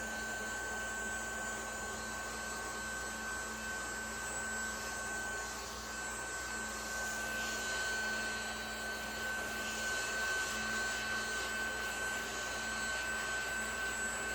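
Small Ryobi USB lithium desktop vacuum cleaning a table, a steady whining motor hum that runs unbroken and fairly loud throughout, with a constant high tonal whine and faint scraping variations as it moves across the surface.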